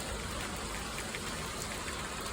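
Steady, even rainfall hissing softly without a break, a constant gentle patter with no voices.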